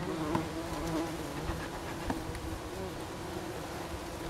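Bumblebees buzz steadily and close by as their hive is moved into a new nesting box, a continuous droning hum with no talk over it.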